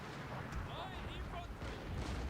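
Wooden cannon fires in the Total War: Fall of the Samurai strategy game, low booming blasts rumbling under a steady battlefield din with faint whistling projectiles, while someone talks over it.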